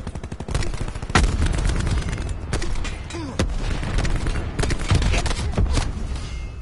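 Rapid gunfire in the shooter game Black Ops 4: loud, dense bursts of automatic shots with sharp single cracks and heavy booms, sustained without pause.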